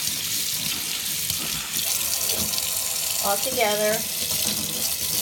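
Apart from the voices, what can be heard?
water rinsing paint brushes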